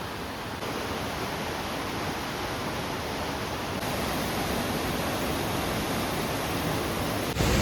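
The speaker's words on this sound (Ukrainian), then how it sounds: "Вже чутно шум гірської річки." Rushing mountain river near Savica waterfall in Slovenia, a dense, steady broadband roar of turbulent water that stays close and constant with no voices over it.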